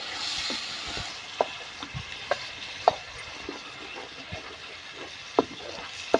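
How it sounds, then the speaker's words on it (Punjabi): Ground spice paste roasts in oil for a pumpkin curry, making a soft, low sizzle beneath repeated light taps and scrapes of a spoon stirring the pan. "ਮਸਾਲੇ ਨੂੰ ਚੰਗੀ ਤਰ੍ਹਾਂ ਭੁੰਨ ਲੈਂਦੇ ਆ"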